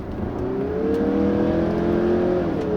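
A 2016 Mazda CX-9 Signature SUV driving through corners, a steady engine hum rising and falling in pitch as it accelerates, heard from inside the cabin with no talk.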